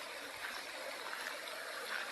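The Washougal River near Cougar, Washington runs over small river rocks in a soft, steady rushing wash, faint and even across the whole moment with no other sounds standing out.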